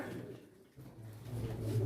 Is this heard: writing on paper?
no